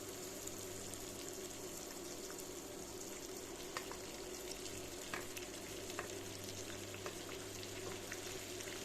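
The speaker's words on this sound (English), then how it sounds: "Saute for about 3 or 4 minutes, then add the ackee." Ackee and saltfish sautéing in a pot with very little oil, a soft steady sizzle with occasional stirring scrapes, quiet and even throughout with no talk.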